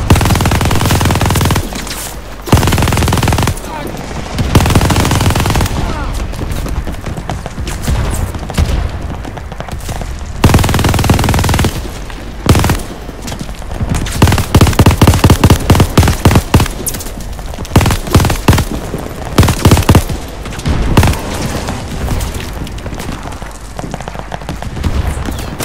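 Sustained turret machine gun fire in a Call of Duty: Vanguard campaign mission, loud bursts of rapid shots broken by brief pauses, with booming impacts and continuous battle noise throughout.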